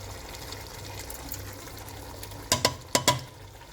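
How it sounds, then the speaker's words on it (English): Water is added to tomato cans holding leftover tomato and swirled to mix, a soft watery wash under four quick, close knocks near the end. "There will be some leftover in the cans, so I'll be just adding some water into it and just mixing it."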